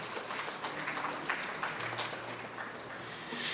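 Audience applause for student marketing competition winners at a national college conclave, a faint, steady wash of many hands clapping at a distance, swelling slightly near the end.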